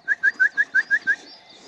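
Seven short, bright bird chirps sound in an even, quick rhythm, close and clear, then stop, with no talking.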